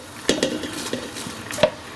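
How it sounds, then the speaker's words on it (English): Coconut flakes are stirred into gently boiling sugar in a pot for Surinamese kronto koekoe, giving close scraping and clinking strokes of the spoon over a low bubbling sizzle. "Of course, you're gonna give this a good stir."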